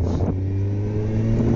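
Kawasaki Z750S motorcycle, a 108-horsepower bike, idling and revving nearby in a Parisian town street, a steady low engine drone with a slight rise in pitch, no voices over it.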